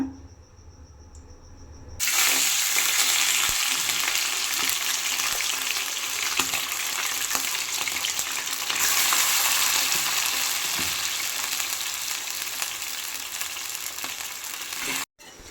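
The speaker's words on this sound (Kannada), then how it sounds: "ಚೆನ್ನಾಗಿ ಇದನ್ನು ಹುರ್ಕೋಬೇಕು ಎಣ್ಣೆಲಿ" Hot oil sizzling steadily in a heated pan for chicken gravy, with stirring scrapes now and then, close and loud and unbroken by talk.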